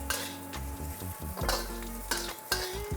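Onion pieces charring in a hot pan over high heat, a loud close sizzle with bursts of stirring and scraping against the pan.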